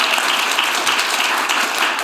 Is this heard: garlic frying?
no